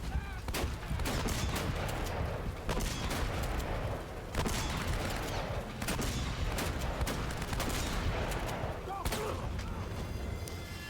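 Gunfire from Uncharted on crushing difficulty: dense bursts of shots and booms crackle back to back, with a few brief lulls between volleys.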